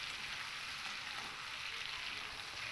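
Green beans frying in a pan with sugar and slit green chillies, sizzling in a steady, dense hiss as they are stirred, with no voices over the cooking.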